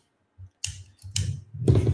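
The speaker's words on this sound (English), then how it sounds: "I got my handy dandy heavy duty scissors." Heavy-duty scissors are handled during a comic book unboxing, giving a few short clicks and snips followed by rustling handling noise, close and fairly quiet.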